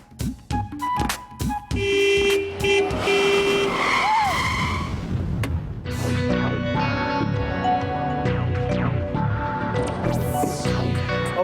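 A car approaching on a busy street with engine noise, a horn toot and tyre screech amid loud traffic and background music, fairly close and continuous.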